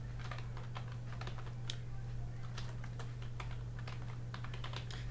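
Rapid, close clicking of a computer keyboard as someone types, irregular keystrokes running steadily over a low electrical hum.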